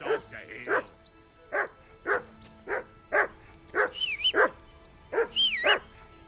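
Dog barking in the video game Kingdom Come: Deliverance II, a series of about a dozen sharp barks at an uneven rhythm, some with whiny yips, fairly close.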